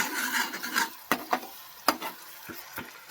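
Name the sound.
tempering (tadka) sizzling for dal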